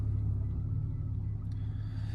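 A Ford Falcon XR6 with a 2.5 inch exhaust, Pacemaker 4490 headers and a high-flow catalytic converter idles by a windy roadside, heard from inside the car as a steady deep low rumble.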